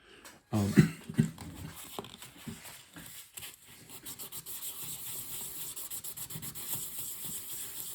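Rhythmic abrasive rubbing close up on a Singer 301 sewing machine's metal, repeated back-and-forth sanding strokes with a harsh gritty hiss, preceded by a few louder handling bumps.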